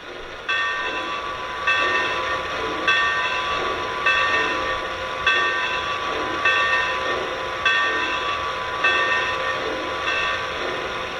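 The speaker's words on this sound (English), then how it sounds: "And here's the bell." A Weaver Models Lehigh Valley Black Diamond 4-6-2 model locomotive bell (TMCC) rings steadily in a regular, repeating clang pattern, loud and close, over a faint mechanical hum, with no talking.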